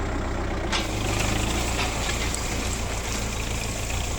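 A tractor engine runs steadily near the microphone during a cotton stalk puller trial in a field, a loud continuous rumbling drone with no talking.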